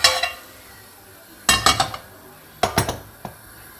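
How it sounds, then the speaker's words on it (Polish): Metal frying pans knocked and set down on a kitchen stove while carrot and fish are cooked, giving two clustered bursts of clinks and clanks with a few lighter taps in between, near and fairly loud with no talk. "Teraz podmieniamy patelnię."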